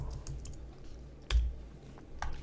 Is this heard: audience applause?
no